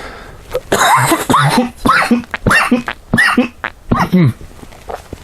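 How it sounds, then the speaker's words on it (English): A fit of loud, close coughing: several harsh coughs in quick bursts, pausing briefly between them, with no talking. "Sorry about the coughing there."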